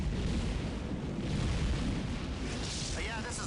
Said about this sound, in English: There's been some kind of explosion.